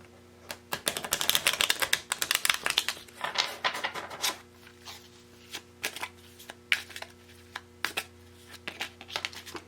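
Tarot cards shuffled and handled by hand, a dense burst of quick papery riffles and snaps for the first few seconds, then sparser soft flicks and taps over a faint steady hum.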